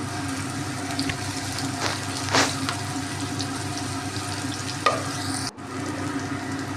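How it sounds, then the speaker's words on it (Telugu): Onions frying in hot oil in a home kitchen, a steady dense sizzle with occasional stirring scrapes and a brief clatter near the end, with no voices. "కొద్దిగా వేడెక్కిన తర్వాత రెండు గంటల ఉల్లిపాయలు వేసుకోవాలి"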